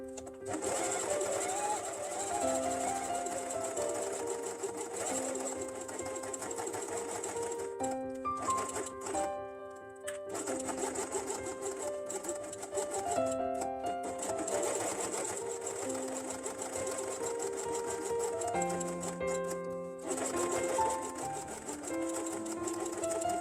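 A sewing machine stitching along the edge of fabric pieces for a dinosaur quiet book, running in a fast, steady mechanical chatter for long stretches with a couple of brief pauses and restarts, close and clear.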